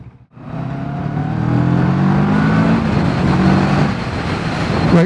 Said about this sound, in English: look, pulling away really nicely.